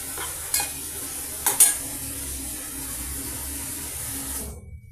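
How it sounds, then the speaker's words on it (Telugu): Chopped tomato tumbles into oil in a frying pan and gets stirred, a steady close sizzle running throughout with a couple of brief clatters from the spoon, no talking. "ఇప్పుడు ఇందులో మనం ఒక పెద్ద సైజు టమాటా కట్ చేసి వేస్తున్నామండి."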